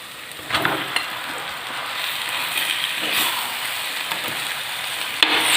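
Chicken pieces fry in a pan with pepper masala and onion, a steady broadband sizzle with a few soft stirring scrapes, close and alone without talk.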